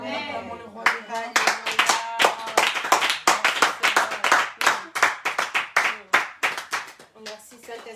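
A church congregation claps together in a steady, driving rhythm to acclaim the king of kings during worship. The claps are loud and close, and a few voices sing briefly at the start.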